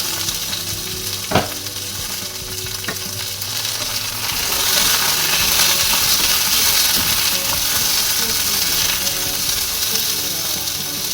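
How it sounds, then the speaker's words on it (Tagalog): Asparagus sizzles steadily in a hot pan for a quick cook, a loud continuous frying hiss with occasional stirring knocks, swelling slightly midway and holding on without voices. "Saglit lang kumaluto yung asparagus mga kabayan"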